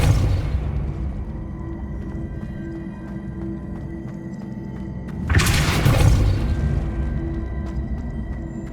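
A Depulso spell strikes in Hogwarts Legacy with a sudden crashing, shattering impact midway, rising out of a low rumbling ambience and decaying over a couple of seconds.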